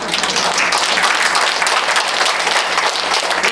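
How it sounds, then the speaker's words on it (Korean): Sustained applause from a seminar audience at a Buddhist memorial seminar, steady and dense clapping filling the whole stretch at close, loud level with no pauses. "여러분들 박수 쳐야 되는데."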